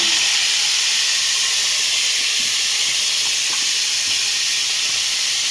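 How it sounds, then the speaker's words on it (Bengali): Marinated chicken frying in hot oil, heard as a loud, continuous hiss that stays even from start to finish, with no talk over it. "চিকেনটা দিয়ে দেবো ভাজার জন্য"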